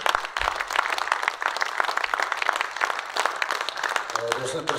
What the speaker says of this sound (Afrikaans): Ek ons kan Hanna weer 'n mooi hande klap gee.